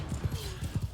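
A horse trots across a battlefield in the video game Mount & Blade II: Bannerlord, its hooves giving a few quick, muffled clip-clop beats in under a second.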